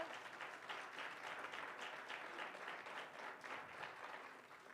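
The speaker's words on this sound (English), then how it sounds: "please give them a warm round of applause" Warm applause from an art show audience rolls on evenly, a continuous crowd clapping texture heard faintly at low level with no voices on top.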